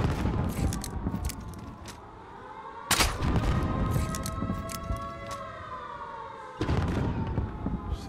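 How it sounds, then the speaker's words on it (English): Gunfire in Call of Duty: Modern Warfare, several loud broadband bursts at the start, near three seconds and near the end, with sustained tonal game sounds between them and no talk. "It's the loadout shooting at us"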